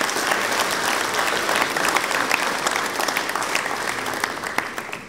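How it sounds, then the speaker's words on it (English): Sustained audience applause fills a school annual sports awards ceremony, a dense, steady wash of clapping from many hands that holds at an even level throughout without pause. "Another round of applause"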